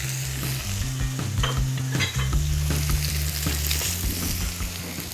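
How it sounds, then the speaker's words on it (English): Mussels and onions fry in a hot pan, giving a strong, continuous sizzle. Occasional stirring scrapes and pan clatter sound up close, with no talking. "Let them start cooking down with our onions."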